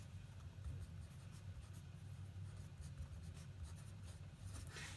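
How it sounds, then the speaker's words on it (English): Steady pen or marker strokes from writing during a lecture, soft and continuous, close by, over a low, constant rumble. "let me write that so that it's actually readable"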